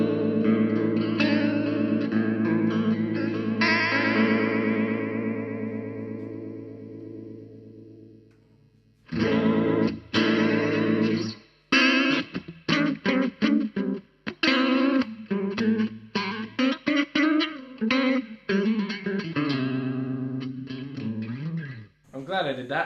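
Electric guitar played through a Coral Mod vibe and Uni-Vibe effect pedal, sustained chords swirling and pulsing, a ringing chord decaying over several seconds, then a busier passage of picked notes and chords with the warbling modulation throughout.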